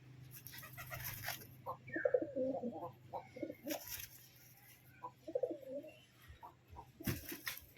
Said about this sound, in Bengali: বাচ্চা পায়রা পোষার ইচ্ছে হলো তাই নিয়ে এসে বাচ্চা পায়রা পুষছি এখানে